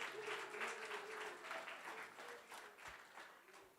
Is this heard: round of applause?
yes